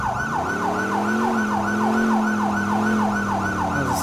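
Police siren from the GTA 4 Episodes from Liberty City LCPDFR mod, a steady, rapidly repeating wail that stays close and loud throughout over a low engine drone.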